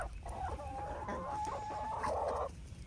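Young chickens cluck and chirp close by, one thin sustained cheep running through the middle before a burst of rough squawking near the end, over a steady low background.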